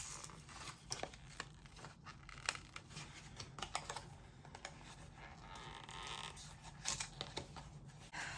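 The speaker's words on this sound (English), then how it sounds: "Going to let that just set for a minute while I open up this packaging" Cheap plastic-wrapped makeup eyeshadow palette being pried open, a steady run of quiet close crinkles, tears and scratchy handling clicks over several seconds, with no talk.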